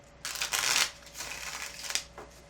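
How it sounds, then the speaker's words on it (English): Close, crisp riffle of cards being shuffled, two quick bursts of fluttering, with no talking. "And the last shuffle."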